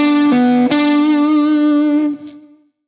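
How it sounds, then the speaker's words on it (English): Electric guitar with effects plays a blues country style lick: a bent, sustained note with a quick pick attack and slide, ringing out loud and clear before fading away, with no voice. "the solo starts with a fairly simple blues country style lick which goes like this"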